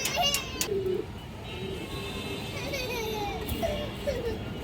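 Pigeons, Indian high-flyer Kaldom birds, cooing in soft repeated low calls close by, with background chatter and children's voices faintly under them.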